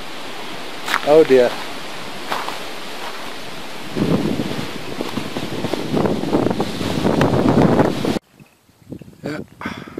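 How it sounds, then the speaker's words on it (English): A small outdoor stream runs in Robertson, South Africa, giving a soft rushing water noise in the middle of the clip, mixed with wind buffeting the microphone. A voice speaks briefly at the start. "Oh, a little bit of a stream running here."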